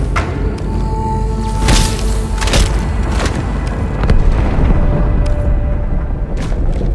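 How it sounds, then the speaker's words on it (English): A ship explodes in Halo 2 at Cairo Station, heavy booms and deep thuds rumbling over a loud low roar, with several distinct impacts spread through the stretch. "That explosion came from inside the Athens."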